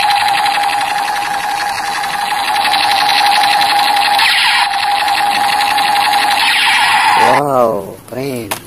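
A light-up toy M16 gun fires its electronic shooting effect, a loud, continuous close-up rapid buzzing rattle over a steady tone, ending in a few quick warbling sweeps as it winds down.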